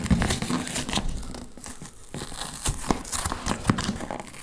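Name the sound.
opening the packaging of a Speck MacBook Pro case box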